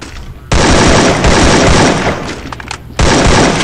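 Video game gunfire erupts in loud, dense bursts of rapid shots, with a brief lull before another burst begins.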